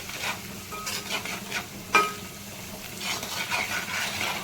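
Chili powder and salt being stirred into a brinjal curry in a pan, a low sizzle under repeated spoon scrapes and one sharp clink of metal against the pot.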